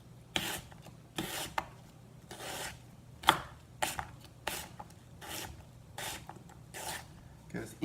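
A knife dices squash on a cutting board in a home kitchen, a series of crisp, separate chops in an irregular rhythm, close and fairly quiet.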